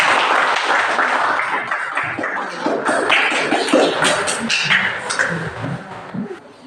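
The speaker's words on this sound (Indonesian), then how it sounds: "Oke, tepuk tangan untuk kelompok." A classroom group receives lively applause, with close, uneven clapping that rises and thins out over several seconds and a few voices mixed in.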